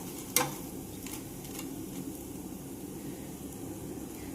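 Onion sandige crackling and sizzling in hot oil, a steady soft frying hiss with one sharper pop at the start and faint scattered crackles, fairly quiet and close.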